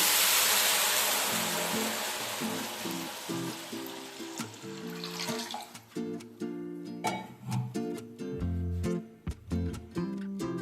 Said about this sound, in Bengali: মশলার সাথে এবার আমি এর মধ্যে জল অ্যাড করে দিচ্ছি